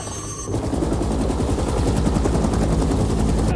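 Sustained machine gun fire from a gunship helicopter strafing a palace during an uprising in the Philippines: dense rapid bursts of loud gunfire over a low rotor drone, continuous and close.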